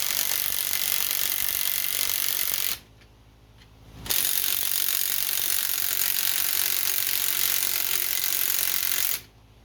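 A ratchet turning a small screw while car struts are installed, a dense continuous clicking that runs for several seconds, stops briefly, then resumes and carries on, close and fairly loud with no talking.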